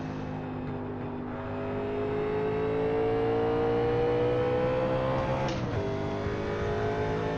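A 1987 NASCAR stock car engine in iRacing, held in 3rd gear at WWT Raceway (Gateway), drones loudly and steadily with a rising whine, then briefly drops in pitch near the end as the revs shift.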